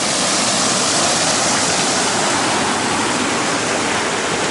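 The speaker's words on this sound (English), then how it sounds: "It is running with water." Water rushing steadily through a trail tunnel, a loud, dense, unbroken roar close by with no voices.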